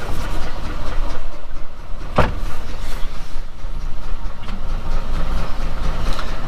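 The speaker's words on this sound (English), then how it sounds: "It's running. Bit of a rough idle." Morris Minor engine idling roughly after a coolant leak repair, a steady close rumble with one sharp knock or clunk partway through and no talk.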